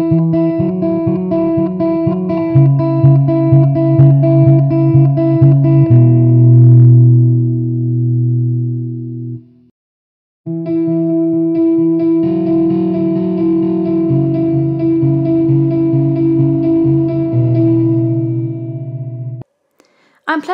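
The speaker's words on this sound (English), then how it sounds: "Now let's compare the electric guitar and the piano sound." Distorted electric guitar recorded through amp modeling in a DAW plays a riff, stops, then an EQ'd piano track plays a similar line, each loud and close with a brief silence between them.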